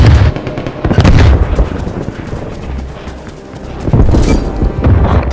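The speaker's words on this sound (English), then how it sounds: "Bomb grenade out." In a Call of Duty Black Ops Cold War domination match, a grenade explodes with loud close booms amid bursts of gunfire, with a second heavy blast near the end.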